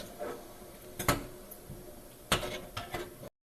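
Mackerel (bangda) curry with turmeric, red chili, garlic paste and tamarind water is stirred in a pan, giving a few sharp clacks and scrapes of the spoon against the metal over a quiet, low background.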